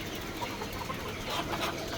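Roosters at a poultry farm in Bogura, a dense, continuous murmur of clucking and chatter from many birds close by, steady throughout with no speech.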